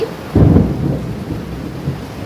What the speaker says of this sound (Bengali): কি জোর বৃষ্টি নেমেছে সঙ্গে বাজ পড়ছে